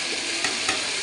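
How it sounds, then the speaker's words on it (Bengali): Mashed boiled potato fried in a spiced masala gravy for chana masala, a loud, dense, continuous sizzle with faint stirring bumps, no voices. "এই যে এবার আলুটা দিয়ে খুব ভালো করে কষিয়ে নেব"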